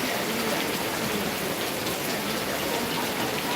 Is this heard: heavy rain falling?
yes